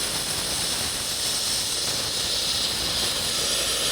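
Air from a Harbor Freight 65A plasma cutter's post flow hisses steadily, a loud continuous close rush with no breaks and no talk.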